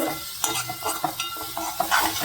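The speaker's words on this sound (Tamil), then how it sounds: "வெள்ளத்தை நல்லா கலறிட்டு ஒரு செகண்ட் கொதிக்க விட்டுட்டு" A spoon stirs jaggery through citron pickle in a hot pan as it comes to a boil: steady scraping and stirring strokes over a soft sizzle, close up, with no talk.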